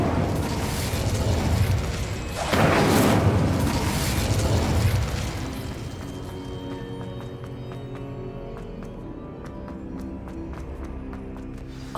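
The Incendio fire spell is cast in Hogwarts Legacy with a loud whooshing burst of flame that swells for a couple of seconds. A softer rumbling tail and faint ticking ambience follow, with no voices.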